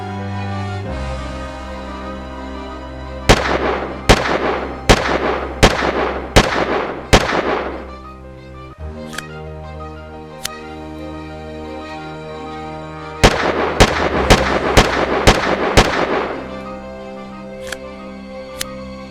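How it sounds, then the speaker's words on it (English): A LEGO Team Fortress 2 Spy revolver fires in two rapid volleys of about six sharp, loud cracks each, evenly spaced, with a few isolated shots between and after, over a low steady hum. "what better way to test out a revolver than to start shooting it"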